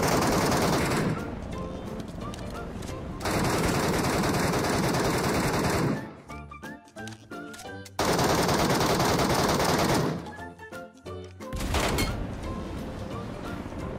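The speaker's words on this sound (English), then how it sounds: "There we go, I got the last two bullets in on him." Rapid automatic gunfire in PUBG Metro Royale blasts at a boss in long loud bursts broken by short quieter gaps, with game sounds and a voice in the mix.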